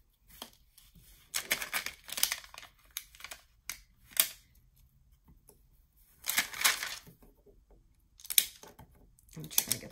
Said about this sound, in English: I'm trying to get these stickers off